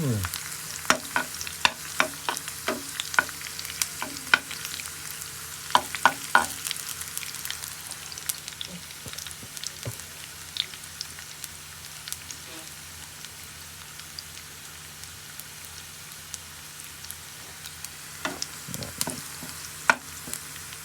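Potatoes and spam fry in a pan with a soft, crackling sizzle, broken by scattered pops and scraping stirs.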